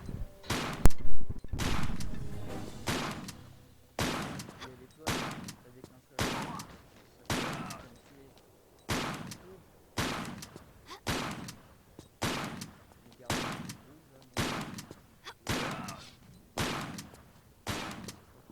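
Pump shotgun fire in the Tomb Raider game, sounding as a long series of loud, sharp blasts at steady intervals of roughly a second, each with a short ringing tail and brief silence between shots.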